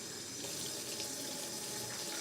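Water runs from a kitchen tap into a container, a steady, close and even rush that stays constant for a couple of seconds.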